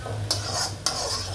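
Thinly sliced potatoes frying in a pan: a steady low sizzle broken by two sharp scraping strokes of a spatula, close and moderately loud, with no talking.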